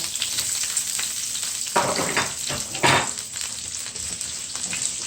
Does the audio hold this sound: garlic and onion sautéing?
yes